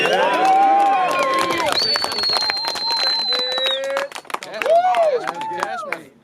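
Crowd at a battle rap event cheering, with loud whoops, whistles and rapid clapping packed close together. Voices shout over the noise, which dips briefly before surging again.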